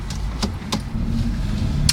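A car on the road toward Oceanside Pier gives a steady low interior rumble, with a few sharp clicks and rattles from inside the cabin and no talking.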